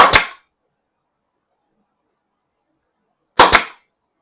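Pneumatic air nail gun driving nails into a wooden birdhouse, two sharp, loud, close shots, each with a quick double snap, separated by about three seconds of silence.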